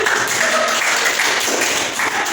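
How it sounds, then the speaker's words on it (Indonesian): Classmates in a school classroom applaud their peers, a dense, steady patter of many hands clapping at once. It fills the whole short stretch at an even, fairly loud level. "Beri tepuk tangan buat teman kalian."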